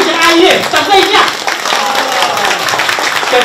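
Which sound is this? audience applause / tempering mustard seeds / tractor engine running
audience applause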